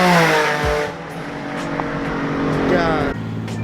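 A Nissan 350Z driving past on a road, its engine accelerating loudly nearby and then fading as it goes by.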